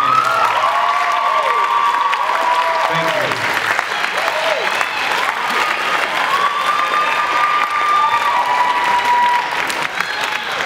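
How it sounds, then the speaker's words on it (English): A school audience applauds a student athletic trainer at a soccer event, steady dense clapping filling the whole stretch with whistles and cheers rising over it, loud and close. "So I want us to give a big round of applause"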